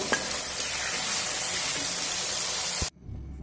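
Potatoes frying in oil on a medium flame, a steady dense sizzle held close and loud for nearly three seconds before cutting off abruptly, leaving a faint low hum.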